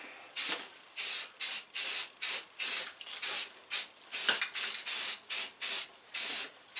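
Rust-Oleum primer is spray painted onto a John Deere 318 in about fourteen short, even hissing bursts, each separated by a brief pause. The sound is close, with no talk.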